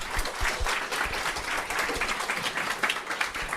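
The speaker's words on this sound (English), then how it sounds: "please give her a big round of applause" An audience at a FlutterNinjas tech talk applauds as the speaker Renuka is introduced, steady moderate clapping from a modest crowd, continuous and close with no talk over it.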